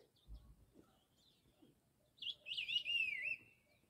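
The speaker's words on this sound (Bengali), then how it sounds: "মানে এখানে ভরপুর পাখি আছে" A wild bird in the forest near Tshoka on the Goechala trek gives a clear, bright, warbling call lasting about a second. Fainter chirps and quiet rustling come before it in an otherwise calm setting.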